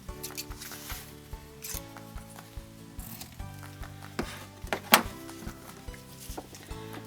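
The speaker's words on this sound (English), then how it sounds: "I want 2 feet of this ribbon, and I want it cut into 1 foot lengths" Scissors cutting fabric ribbon into one-foot lengths at a sewing table, with soft, scattered snips and rubbing handling sounds over a faint steady musical background.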